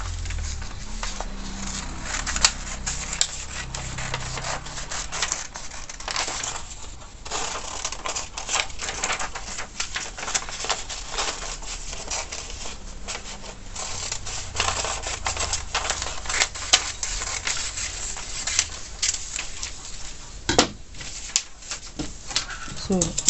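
Scissors cutting out fabric for a collar, heard as a dense run of close, crisp snips and rustles that continue steadily for over twenty seconds with no talk.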